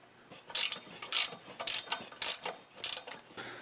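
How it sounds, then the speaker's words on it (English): A ratchet tightens the exhaust header bolts on a 1.6L Mazda MX-5 Miata, heard as six close, evenly spaced clicking bursts with faint gaps between strokes. "for right now I'm just tightening everything down until they touch the header"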